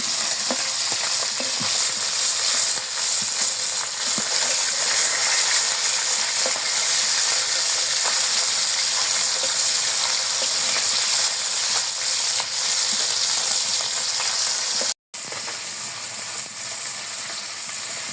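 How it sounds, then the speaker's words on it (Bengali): Loud, steady sizzling of small bata fish frying in hot oil, a dense continuous crackle with a brief dropout near the end; no voices. "মাছগুলো তেলে টকবক টকবক করে ফুটছে।"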